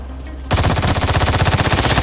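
Automatic gunfire in the video game Arena Breakout starts abruptly after a quiet moment and continues as a loud, rapid, evenly spaced burst of shots that carries through to the end.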